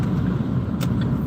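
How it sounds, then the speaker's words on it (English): A car passes on a road during an Illinois dust storm, a steady low rumble of tyres and engine close by with wind noise, brief and without talk. "as soon as this car goes past,"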